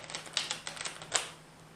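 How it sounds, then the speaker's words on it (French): Tarot cards shuffled by hand nearby, a quick irregular run of soft, papery clicks and flicks over about a second and a half, then fading to quiet; no voices. "les cartes sont brassées,"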